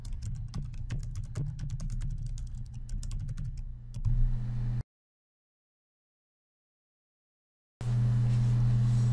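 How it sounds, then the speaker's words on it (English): Computer keyboard keys tapped in a quick, irregular run while typing a photo caption, fairly close and clear, followed by a long silent gap before steady room noise returns. "The cursor will flash and you can type in your caption."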